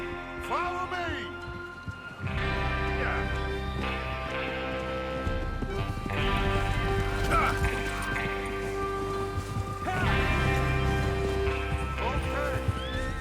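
Horses gallop in Red Dead Redemption 2 with steady clip-clopping hoofbeats and an occasional whinny, running continuously under game sounds and voices.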